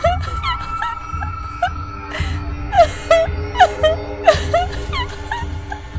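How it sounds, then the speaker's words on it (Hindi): A woman's eerie wailing and moaning cries rise and fall in repeated sobbing bursts over a low drone, used as a sound effect in a Hindi horror story. "उसी समय अचानक रोने की आवाज और नुपुर की ध्वनि सुनाई दी।"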